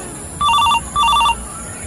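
Two short bursts of an electronic telephone ringtone, each a warbling trill of about a third of a second separated by a brief gap, clear and close against a quiet background in a short-film scene.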